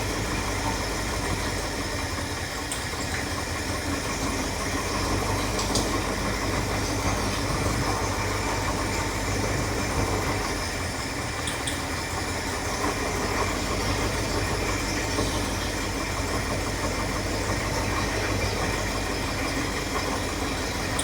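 Truck engine idling rough on missing cylinders, a steady, uneven low rumble running continuously at moderate level with no one talking.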